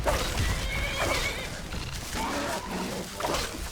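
A horse in the Skyrim video game whinnies repeatedly while under attack by a spider and a wolf, loud shrill neighs over scuffling hooves and combat noise.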